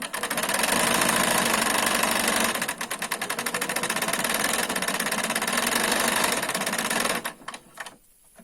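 A sewing machine stitches fabric forward and back in a straight seam, its motor humming with a rapid steady mechanical chatter that slows briefly, resumes, then winds down and stops.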